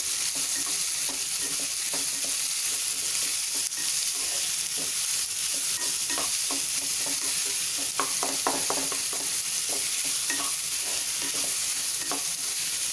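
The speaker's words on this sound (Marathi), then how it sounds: "कांदा गॅस मोठा करायचा आणि छान परतून घ्यायचे हे" Onion sautés on high flame on a tawa, producing a steady loud hiss throughout with a run of rhythmic scraping and clicking stirring strokes, busiest in the middle.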